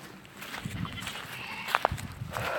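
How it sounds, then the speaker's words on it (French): Goats bleat in a couple of short, fairly faint calls mid-way, amid outdoor rustle and shuffling footsteps. "Bon, il y a encore les chèvres"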